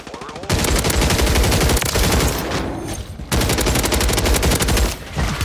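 Automatic gunfire in the video game Call of Duty: Warzone 3, loud sustained bursts of rapid shots with brief pauses between them.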